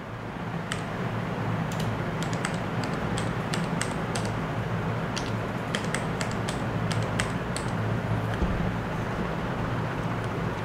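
Steady, close clicks of keys being pressed on a computer keyboard while a new Windows password is entered, irregular taps spread across the clip over a constant low hum.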